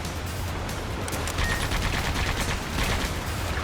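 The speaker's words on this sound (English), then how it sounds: "Hey, these are decent machine guns, but not that good" Machine guns mounted on a hovercraft fire in the video game Sand Land, a dense, continuous rattle of gunfire that runs steadily through the whole stretch at a loud level with no talk over it.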